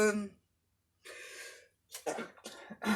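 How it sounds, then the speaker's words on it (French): A single close, quiet sneeze bursts out between breaths, followed by soft vocal sounds. "je vais éternuer"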